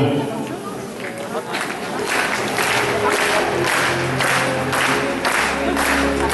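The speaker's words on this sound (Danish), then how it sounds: "Og så kan vi godt begynde bare at klappe så en tak fast, fordi han kommer ind i hallen her nu" A hall audience at a Danish warmblood stallion show claps steadily in rhythm as the stallion enters, applause swelling and holding loud while an announcer speaks over it.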